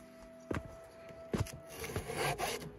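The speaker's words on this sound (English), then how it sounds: "I'm just gonna clean that hole up a little bit with a round file." A round file cleans up a hole in soft wood for a bellows air gate, giving a few short raspy strokes that build into a longer rubbing scrape, close and quiet with no voices.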